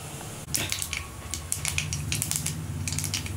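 Mustard and cumin seeds hit hot oil while tempering for a Tamil manathakkali keerai poriyal, giving a dense, steady crackle of sharp pops and spits up close.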